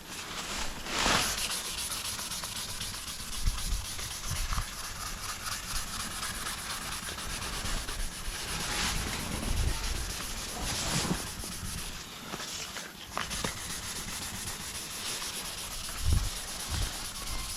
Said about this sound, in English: it will just easily sand down now, so just feather them edges out